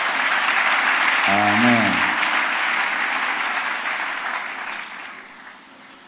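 A church congregation at a Sunday worship service applauds in a loud, sustained wave of clapping that slowly fades toward the end, with one voice briefly calling out over it.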